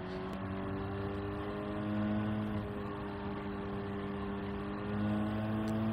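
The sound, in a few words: race car engine downshifting to third gear, Gran Turismo 7 video game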